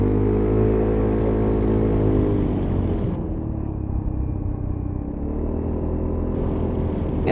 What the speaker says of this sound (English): Let's accelerate away from here